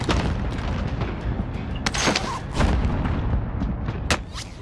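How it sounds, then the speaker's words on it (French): Steady video-game combat with booming explosions and scattered sharp gunshots, several distinct blasts standing out over a rumbling background, moderately loud and without talk. "J'essuie des tirs"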